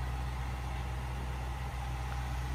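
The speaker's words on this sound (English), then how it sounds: "Very impressive engine." A luxury SUV engine idles steadily with a low, even hum and no breaks, loud and close, with no one speaking.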